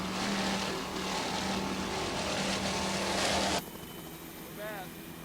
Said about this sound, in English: Powered by two 700 horsepower Mercury power plants.